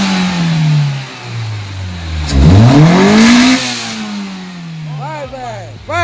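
A Toyota Corolla 5AFE engine running on a Honda ECU, revved up and down with rising and falling pitch, close and loud. Several short blips follow near the end, with people talking over it.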